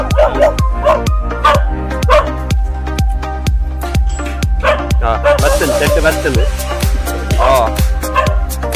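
A dog barks in a village setting, its yips and bow-wows mixed into a loud, steady rhythmic beat with voices in the background.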